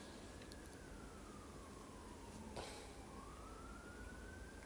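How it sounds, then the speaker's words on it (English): Emergency vehicle siren in the distance, a faint wailing tone slowly falling and rising again behind a steady background hiss, with no talk. "Also, sorry, there's sirens in the background."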